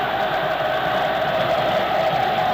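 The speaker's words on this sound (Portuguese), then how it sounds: "E a torcida do Flamengo procura empurrar o time à frente" Flamengo supporters in a packed football stadium during a 1992 Vasco versus Flamengo Brazilian championship match: a loud, continuous roar of crowd noise with sustained chanting, steady and unbroken throughout.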